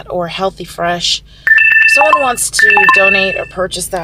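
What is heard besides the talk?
phone alert sound while charging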